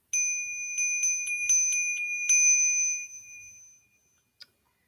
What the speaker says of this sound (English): So we'll begin with a bell.